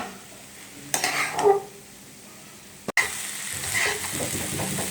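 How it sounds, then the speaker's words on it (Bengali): Beans being stirred as they fry in a pan, a steady soft sizzle with scraping and clinking of the utensil against the pan in bursts, plus a brief sharp knock midway. "আমি একটু ঢাকনাটা তুলে নিলাম একটু নেড়ে চেড়ে দিব"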